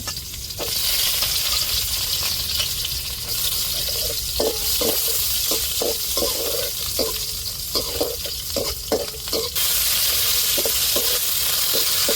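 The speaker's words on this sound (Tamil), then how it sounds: "இப்போ வெங்காயத்தை சேர்த்துக்கிடுவோம் நம்ம தாளிச்சுக்கிட்டே குழம்ப கூட்டிடுவோங்க" Onions are added to hot tempering oil with fenugreek for a fish curry, giving a loud, steady hiss of sizzling frying with intermittent clinks and scrapes of stirring.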